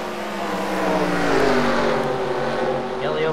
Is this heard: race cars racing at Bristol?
yes